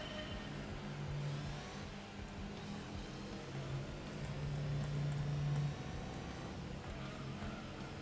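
A fast car driven in Gran Turismo 2 on PS1: a faint, steady engine drone that swells as it accelerates, with no talking.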